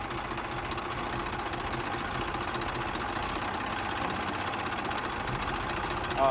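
A Tafe 1035 tractor labours to haul a loaded cart, its engine chugging in a fast, even, knocking rhythm that stays loud and close throughout.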